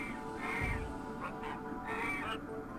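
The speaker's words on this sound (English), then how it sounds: "and then there's also ducks" Ducks in the PS1 game Frogger give a few nasal, rasping quacks in short bursts over a steady game background, fairly close and clear.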